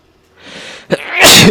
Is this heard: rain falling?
no